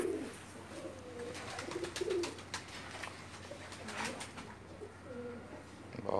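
Pakistani pigeons cooing on a rooftop loft, repeated soft throaty coos close by with a few chirps amid faint background noise.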